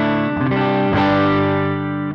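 Dirty distorted electric guitar tone from a Line 6 Helix on firmware 3.15, a thick sustained chord rung out, restruck about a second in and left to ring, loud and alone.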